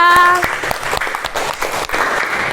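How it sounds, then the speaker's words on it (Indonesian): Applause from an audience at a PRJ fair event, a dense burst of many hands clapping that starts loud after a brief tone and carries on steadily throughout. "Beri tepuk tangan untuk Mbak Novia"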